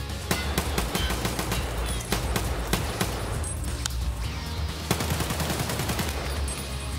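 Full-auto gunfire in the video game Escape from Tarkov: rapid, sustained bursts of shots crackle almost continuously, loud and up front, with sharper single cracks standing out and no speech.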